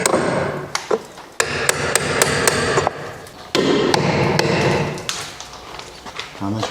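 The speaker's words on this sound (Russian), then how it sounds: "нужен молоток и зубило или отвертка" A hammer driving a chisel or screwdriver against welded metal, giving a series of sharp, irregular metallic knocks close by, mixed in with ongoing talk from several people.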